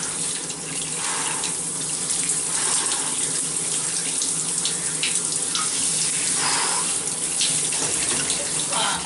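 Steady running water streams and splashes continuously close by as it is poured over a person's body, a constant hissing wash with no talking.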